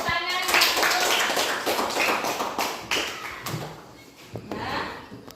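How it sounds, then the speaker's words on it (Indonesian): A small group of children clap hands in a classroom after a science experiment, producing scattered, uneven claps close by that thin out toward the end. "Nah, dah tepuk tangan."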